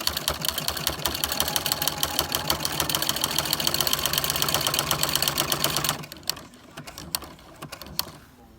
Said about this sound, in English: We are sewing the core down to the muslin.